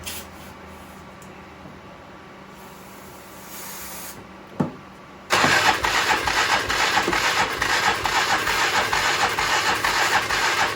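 A 1996 Polaris Magnum 425 ATV engine makes a couple of short cranking attempts, then catches and runs loud and steady, close by, with no talk over it.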